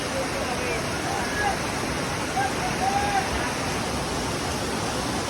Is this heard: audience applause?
no